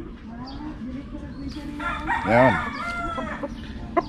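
Backyard chickens cluck and fowl call close by, one louder call rising midway over steady ambient noise, with a brief spoken word.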